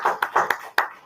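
A small group clapping at a pediatrics class, a few scattered, uneven claps in a brief, close burst with no voices.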